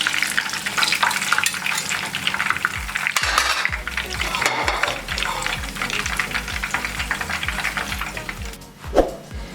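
Fish pieces fry in oil for a restaurant-style fish fry, making a continuous close sizzle punctuated by stirring and utensil scrapes, with a steady low hum underneath and a brief clatter near the end.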